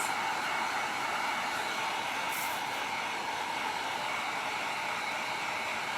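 A heat gun blowing hot air to dry paint on a Dollar Tree Christmas countdown sign: a continuous, close, even roaring whoosh that holds steady throughout.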